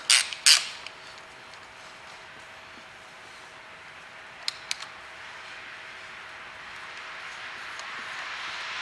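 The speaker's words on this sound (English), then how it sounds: "Put the spanner on and just turn it." A 10mm spanner turns to tighten the plastic rocker cover bolts on a Peugeot Partner. Two sharp clicking creaks sound close at the start, a couple of faint ticks follow later, and quiet workshop hiss fills the gaps.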